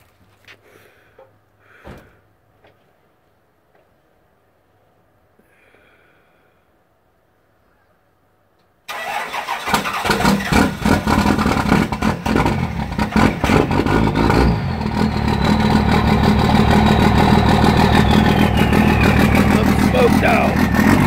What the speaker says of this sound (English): the truck started well actually, but it did smoke a lot